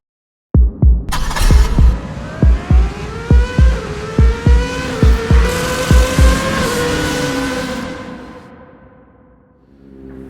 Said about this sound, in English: First up on road, we're going to drive the 750S Spider